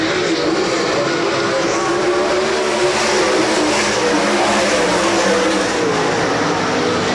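Sprint cars racing down the back straightaway at Rapid Speedway, a loud, sustained engine roar that stays dense and even from start to finish, heard without voices.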